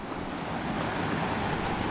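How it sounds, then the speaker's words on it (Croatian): The Paklenica stream rushes through the Velika Paklenica canyon on southern Velebit in Croatia, a steady, broad wash of flowing water mixed with some wind, constant and fairly close. "Ovo pored nam je potok Paklenica."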